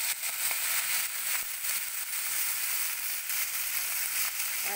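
Karadi leaf vegetable fries in hot oil with a dense, steady sizzle and fine crackling throughout, close and moderately loud, with no voices.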